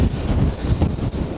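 Strong, gusty wind of up to 70 mph on the Blackpool seafront buffets the microphone in a loud, rushing roar that surges and dips with each gust.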